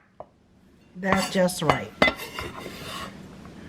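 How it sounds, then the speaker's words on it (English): A knife chops smashed garlic on a board in a home kitchen while stir-fried pork belly with bean sprouts is being prepared. A few sharp knocks and clinks sound close by, with a person speaking briefly over them. "you want to smack the garlic and chop a little bit"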